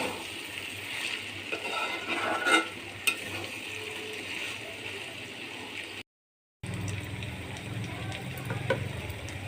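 Fish parts frying in a pan: a low steady sizzle with occasional scraping of a utensil, close by, briefly cutting out to silence partway through.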